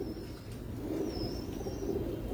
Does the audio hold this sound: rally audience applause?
no